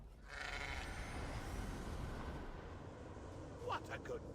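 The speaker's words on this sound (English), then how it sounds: "What a good goat, returning some of my power." Goat bleats in an Elder Scrolls game with Sheogorath: a drawn-out, wavering bleat near the start, then a steady rumbling game background with a few brighter bursts toward the end.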